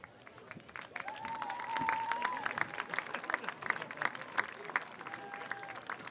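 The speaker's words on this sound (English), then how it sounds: "please give another round of applause for all members of the California Trojans Hall of Fame, class of 2024" Scattered applause from a crowd at a high school football Hall of Fame night, faint and distant, with voices and a whistle-like tone mixed in.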